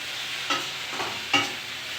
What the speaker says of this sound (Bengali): এই যে চাউমিন রান্না হচ্ছে এখন